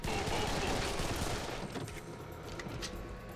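Sustained, dense gunfire from the Serious Sam 3: BFE video game, a continuous loud barrage that eases slightly toward the end.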